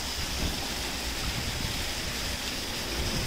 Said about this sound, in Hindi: इतना प्यारा सा वाटरफॉल हो रहा है यहाँ पे